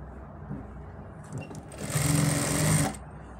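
A sewing machine stitching a seam on ladies' pants sounds in a short burst, rising from soft handling noise into a brief, loud, rapid mechanical whir before cutting off.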